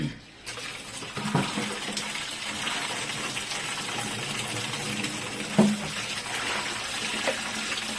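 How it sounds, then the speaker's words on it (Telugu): Water pours into a bucket of green leaves for soaking, a steady close gushing splash that runs without a break, with a brief thump partway through. "దీంట్లో నిండా మునిగే వరకు వాటర్ని వేయాలి."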